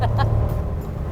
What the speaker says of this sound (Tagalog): nakakatuwa yung tunog ng makina niya